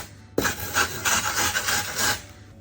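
Hand-shaving a concave mold shape with a rasp-like tool, giving a steady run of close, dry scraping strokes in a quick repeating rhythm for about two seconds after a sharp first contact, with no talking.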